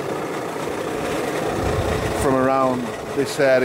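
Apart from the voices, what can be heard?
VW Crafter van engine noise from faulty auxiliary belt tensioner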